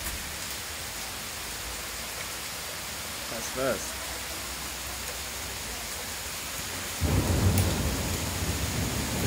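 Rain pours steadily during a hailstorm in Strzelce Opolskie, Poland, as a dense, even hiss that swells into a louder, rumbling burst near the end, with brief voices speaking over it.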